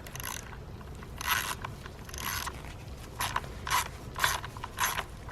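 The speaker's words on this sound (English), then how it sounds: "And size number 8 bolt to be loosened." A hand ratchet loosening a size 8 bolt on a Ford camshaft position sensor, giving several short bursts of quick, close metallic clicking separated by brief pauses, with no voices.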